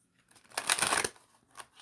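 Tarot cards being shuffled by hand in a quiet room, a dense papery riffle lasting about half a second, loud and close, then a short softer shuffle near the end.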